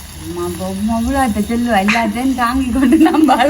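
Ingredients sauté in a hot pan for a Jaffna-style home dish, giving a steady close sizzle and hiss while someone talks continuously over it.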